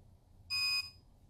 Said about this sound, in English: pressing a small button and holding it until we hear a beep